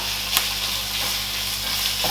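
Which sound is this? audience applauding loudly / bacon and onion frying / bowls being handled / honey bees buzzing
bacon and onion frying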